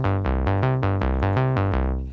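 A punchy analog-style synth bass, pulsing in eight even, loud, fat notes that step between pitches, the last one decaying.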